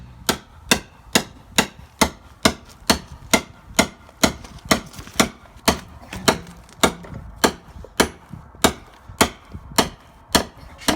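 Rebar is hammered through landscape timber for a backyard pathway, about two dozen sharp, evenly spaced metallic strikes ringing close and loud in a steady rhythm, with no talking.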